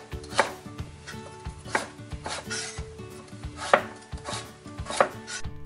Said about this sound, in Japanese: ごぼう1本はたわしで表面をよく洗って回しながら乱切りにします。